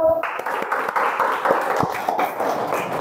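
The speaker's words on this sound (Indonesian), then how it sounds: "Tepuk tangan untuk kelompok 2." An audience in a classroom gives a group a short round of applause of scattered, uneven claps over low room noise.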